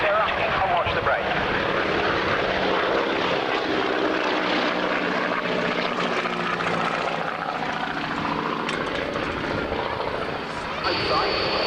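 Aircraft roaring past at the 1993 Coningsby airshow, a loud sustained engine drone holding steady and close before easing slightly near the end, with commentary over the public address underneath.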